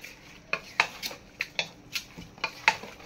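Beef being stirred and mixed in a metal pot for kala bhuna, with a run of sharp scraping clinks of a spoon against the pot in an irregular rhythm, close and moderately loud, with no talk.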